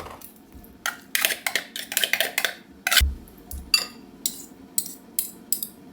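A spoon or fork mixes sardines in a bowl, making repeated close, bright clinks and scrapes of metal on the dish in irregular bursts, with a dull thump partway through.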